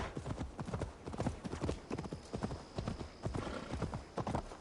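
Rapid rhythmic hoofbeats of a galloping horse in Assassin's Creed Valhalla, clattering steadily and up close, with a faint high tone in the middle stretch.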